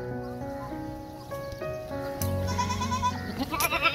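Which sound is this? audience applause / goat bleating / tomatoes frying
goat bleating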